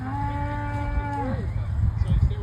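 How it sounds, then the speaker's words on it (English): A cow lets out a long, loud moo, followed by shuffling and movement noises as cattle are brought in on a farm. "Just getting the cows in here."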